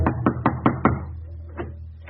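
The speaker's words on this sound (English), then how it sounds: "He knocks on the front door." Knocks on the front door of a German home in Berlin in a radio drama: five firm, evenly spaced raps, then a pause and two fainter knocks, close and with no voices.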